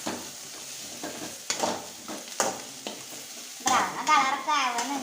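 Food fries in a pan while a utensil stirs it until brown, giving a soft steady sizzle broken by repeated scraping and clattering strokes that grow busier near the end, close up and without talk.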